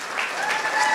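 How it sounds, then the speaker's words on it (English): Audience applause for a guest called up to the stage at an evening event: a dense, steady round of clapping from a full room, loud and close, holding through the whole second. "Round of applause."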